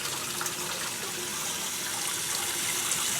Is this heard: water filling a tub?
yes